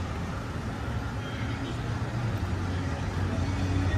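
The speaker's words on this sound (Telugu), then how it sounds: "ఫుల్ రాత్రి కూడా ఈ సౌండ్ వినిపిస్తుంది మనకు బస్సులకి" Bus traffic on a main road beside a hotel in Mirissa, Sri Lanka, gives a continuous low engine rumble that builds slightly as vehicles pass nearby.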